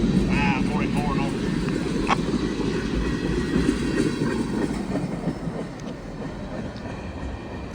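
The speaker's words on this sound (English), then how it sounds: "408 axles on this train." A long northbound freight train of 408 axles, over 6,000 feet, rumbles past close by with continuous wheel and car noise, steady and loud throughout, fading slightly toward the end.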